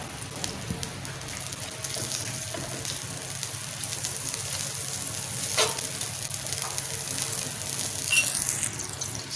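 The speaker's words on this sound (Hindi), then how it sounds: "अपना फ्राई पैन रख दिया, तो मक्खन डाल रहे हैं" Butter melting in a frying pan on a lit stove for chicken pasta, giving a steady, moderate sizzle and crackle throughout with a few sharper spits and pops, no voices.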